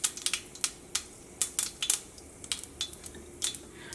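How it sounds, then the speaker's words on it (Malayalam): Mustard seeds popping in hot oil in a pan while egg curry is being made, giving sharp irregular crackles and pops scattered across a low sizzle, close and fairly quiet, with no voices. "അപ്പോൾ നമ്മുടെ കടുക് പൊട്ടിയിട്ടുണ്ട്."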